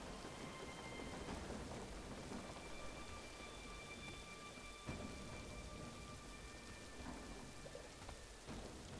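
Heavy rain falls steadily with rolling thunder in an Assassin's Creed 3 video game scene, a constant loud wash of downpour with low rumbles and no voices.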